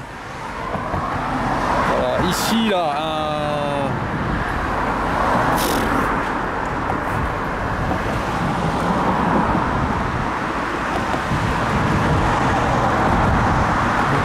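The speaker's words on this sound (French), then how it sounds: "C'est une route où les voitures passent vite." Cars pass fast on a road, a steady roar of traffic with a loud vehicle sweeping by early on, while a person talks nearby throughout.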